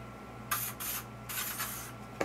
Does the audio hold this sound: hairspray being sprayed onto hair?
yes